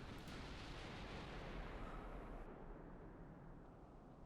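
Warship gun salvos in Ultimate Admiral: Dreadnoughts come as a heavy, sustained roar of cannon fire that swells and then slowly tapers into a low rumbling tail, with no speech over it.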